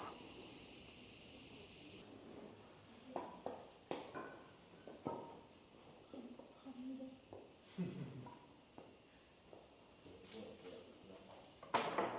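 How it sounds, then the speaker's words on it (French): Cicadas in summer in Kamakura, Japan, drone as a constant high shrill hiss throughout, with scattered footsteps and soft knocks below and a faint voice. "un peu de vent, les cigales, c'est vraiment agréable"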